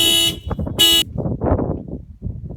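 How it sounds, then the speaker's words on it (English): A car alarm blares in loud sustained bursts, sounding twice in quick succession, with someone speaking right after. "My son set the alarm off on our other car."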